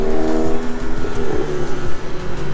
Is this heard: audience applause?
no